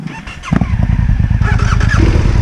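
A KTM motorcycle on a weak battery cranks briefly, then catches and settles into a loud, close, rapidly pulsing idle that picks up slightly, with no talk.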